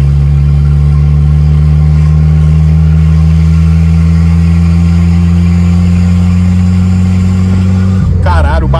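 A Fiat Tipo 1.6 Turbo engine running close and loud, a deep, steady droning hum that holds evenly for about eight seconds before shifting abruptly near the end.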